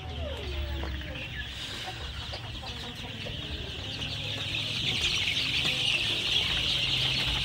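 Eight-day-old Sonali super hybrid chicks in a poultry brooder peep continuously in a dense, high chorus, with occasional louder calls standing out. No one speaks.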